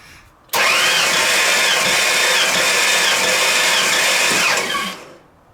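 Truck engine fitted with a Lone Wolf 6000 running in neutral, a loud steady broadband roar that starts abruptly, holds evenly for several seconds close to the mic, then winds down.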